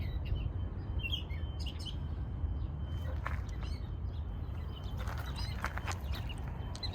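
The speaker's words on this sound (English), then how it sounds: "Here's some of our bird friends enjoying the morning here beside us." Birds chirp and tweet in a rose garden in spring morning, scattered bright calls near and far over a steady outdoor rumble.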